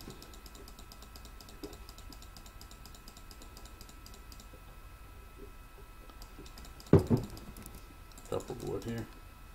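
Computer keyboard typing goes on during a League of Legends game session, with faint, rapid clicking under game sound, followed by a few louder key strikes near the end.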